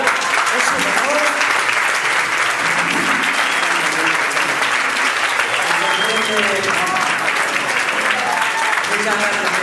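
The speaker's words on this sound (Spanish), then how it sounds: "fuerte aplauso a Ainhoa Amuntxi, por favor" Loud, sustained applause for Ainhoa Amuntxi at a gathering, dense clapping throughout with voices audible underneath.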